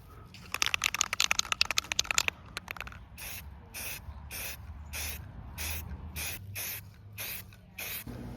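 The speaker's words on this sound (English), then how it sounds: "I'm going to give this piece a quick prime" Spray primer hisses onto a model locomotive's body, tender and cab parts: a quick flurry of short taps, then a series of regular one-second bursts, close and fairly quiet.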